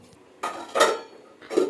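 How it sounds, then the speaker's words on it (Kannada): Dishes and pots clattering in a home kitchen before washing: three loud, close bursts of metal and ceramic knocking against each other, with short quiet gaps between them. "ಸ್ವಲ್ಪ ಪಾತ್ರೆ ಇದೆ, ತೊಳಿಬೇಕು."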